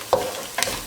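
Sliced onions sautéing in a pan for a Kerala-style dish, a soft steady sizzle broken by two short scraping stirs of a spoon against the pan.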